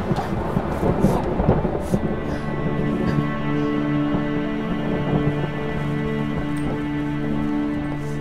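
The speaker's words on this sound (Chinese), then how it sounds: "双喜公公，马上就要下雨了" Thunder rolls as a rain storm gathers in a Chinese imperial palace drama, a loud low rumbling sound effect with sustained tones in the background and a light patter of rain.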